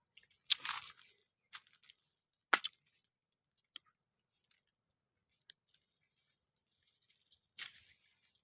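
Mangosteen fruit being eaten up close, with a few sharp crunchy bites and soft chewing sounds spaced apart against quiet surroundings.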